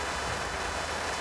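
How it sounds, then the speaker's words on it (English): A car drives close by in a car park, a continuous broadband engine and road roar with no pauses. "Oh my God, what's this car doing?"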